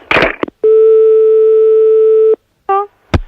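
A steady busy-type telephone tone holds for nearly two seconds on a faulty phone line, bracketed by brief clicks and a short rising chirp, loud and close with no talk over it.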